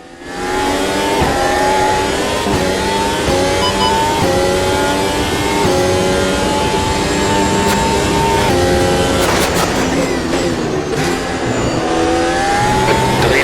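A race car flat out on a hot lap in Automobilista 2, its engine roaring loud and steady, climbing through the revs with quick drops at each gear change and no talk over it.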